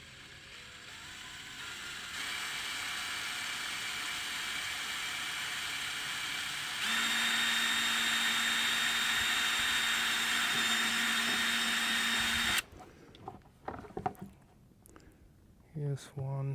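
A power drill whines steadily, rising in pitch as it bites into a metal STIHL chainsaw part, then stops abruptly, followed by a few clicks and brief speech.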